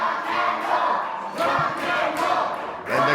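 A wrestling crowd at a live independent show roars and chants in sustained waves, with shouts and bursts of cheering swelling and falling, loud and dense throughout.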